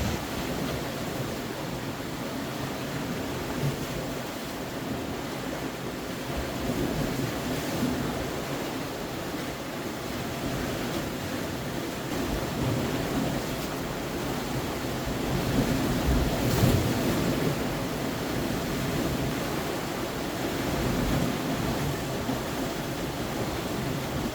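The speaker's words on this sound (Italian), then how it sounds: "il mare è abbastanza impegnativo, arrivano serie di onde che bagnano parecchio il treppiede e le canne" Rough surf during a night sea storm, waves breaking and washing ashore in a continuous roar with gusting wind buffeting the microphone, one heavier surge swelling midway, no voices.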